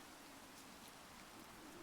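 Rain falling in Minecraft, a steady faint hiss of drops spread evenly across the whole stretch with no pauses and no voices.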